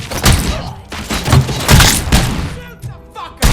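Gunfire from a firefight in the RoboCop: Rogue City video game: a dense fusillade of loud, booming shots and heavy thuds that come in bursts, close up, with a short lull before a final blast.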